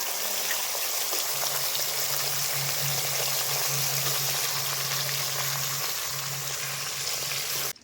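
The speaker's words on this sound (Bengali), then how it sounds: "মাছ ভাজা হয়ে গিয়েছে" Fish fries in oil in a pan with a steady, close hiss and crackle that continues unbroken for several seconds, over a low, faint hum.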